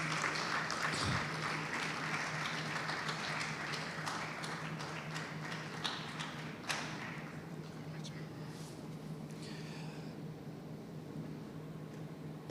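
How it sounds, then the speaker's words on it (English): Audience clapping for Reverend Tumelo Mofugeng at a safety summit in Mbombela, fairly quiet and thinning out over the span, with a few sharper taps and thuds, then the room settling toward quiet. "You may clap until he stands in front."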